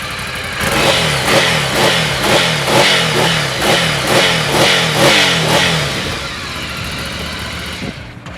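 A motorcycle engine running loud and close, revved in a steady series of repeated throttle blips before the sound drops away near the end.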